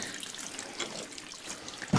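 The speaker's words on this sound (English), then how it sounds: "We'll drain the filter of water, so there'll be nothing in here that's going to freeze." Water drains from a pool filter while the pool is being winterized, a soft, steady trickle and dribble heard close by, with a brief louder clunk at the very end.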